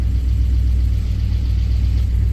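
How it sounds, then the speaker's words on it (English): A 1967 Ford F250 Highboy truck engine idles steadily around 950 rpm, a loud, close, continuous low rumble with an even throbbing pulse and no talking. "Idling about 950"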